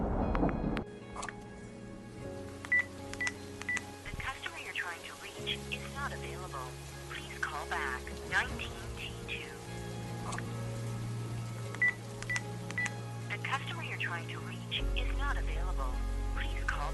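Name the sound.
telephone dialing tones, call not going through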